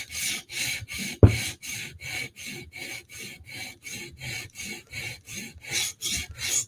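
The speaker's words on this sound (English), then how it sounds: "So now I flip that burr back over again. Now we're taking the burr off." Steady rhythmic strokes of a blade across a sharpening stone to remove the burr, about a dozen even rasping passes at a regular pace, close and clear, with one sharp knock early on.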